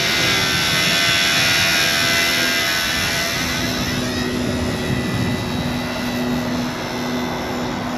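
A collective pitch RC helicopter flies past outdoors in strong wind, a loud steady whining engine and rotor drone whose pitch shifts as it passes, with no voices.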